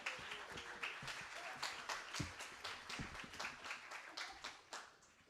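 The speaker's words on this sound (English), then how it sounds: "Another big round of applause for Ben Gossip." A crowd applauds steadily, many hands clapping in a continuous patter, somewhat distant and moderate in volume.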